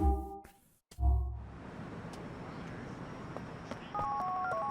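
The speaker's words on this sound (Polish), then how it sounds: "dzwonimy do Dwayna" A mobile phone in Grand Theft Auto IV dials out, a short series of electronic keypad beeps after a brief handling clatter, faint and tinny over a low game background.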